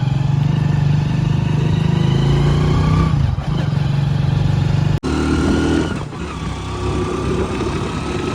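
A motorcycle engine drones steadily nearby, its pitch dropping briefly twice as the rider shifts or eases off, then picking back up.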